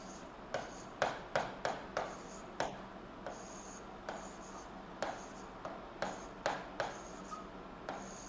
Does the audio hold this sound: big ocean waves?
no